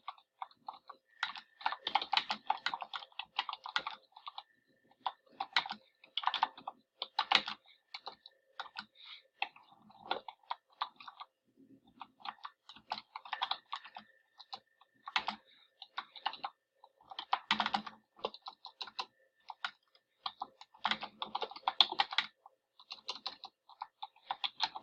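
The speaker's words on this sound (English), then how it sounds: "then type in your information" Someone types on a computer keyboard in irregular bursts of quick, close clicking keystrokes, separated by short pauses, with no talk.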